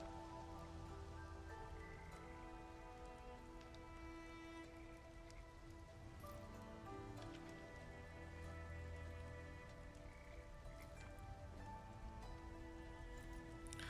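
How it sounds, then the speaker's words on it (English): Rain in the video game Arknights Endfield pours steadily as a soft, even patter layered over sustained game music tones, quiet and constant with no talking. "it's even raining now"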